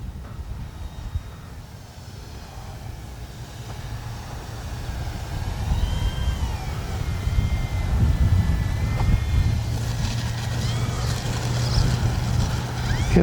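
An E-flite Beechcraft D-18 twin-engine RC model airplane drones steadily in flight and comes in to land, its propeller hum rising and growing louder and nearer toward the end.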